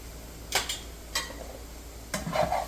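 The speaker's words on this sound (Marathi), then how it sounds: "कांदा आणि खोबरे जे भाजलेलं होतं ते पण याच्यामध्ये मिक्स करून थोडंसं परतवून घेतो." Roasted onion and coconut being sautéed with crab, a faint background sizzle punctuated by three bursts of stirring scrapes and spatula knocks against the pan, close up with no speech.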